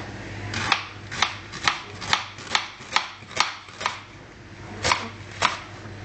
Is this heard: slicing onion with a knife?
yes